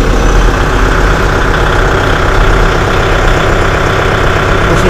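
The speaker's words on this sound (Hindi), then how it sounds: "तो चलिए ट्रैक्टर को स्टार्ट करके इसका आवाज़ सुनते हैं" A Kubota MU5502 4WD 50hp four-cylinder tractor diesel engine idles loudly and steadily nearby, a deep continuous rumble with a rhythmic low knock and vibration, no voices.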